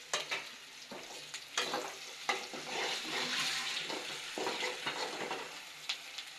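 Onions fry in a pan with salt, sizzling continuously up close while a spatula stirs them in repeated scraping strokes.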